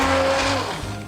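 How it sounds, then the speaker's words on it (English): A stick blender whirs in a pan of marinara sauce, a steady motor drone that drops in pitch and eases off partway through, close and loud. "I'm going to use a stick blender to go ahead and chop it up a little bit"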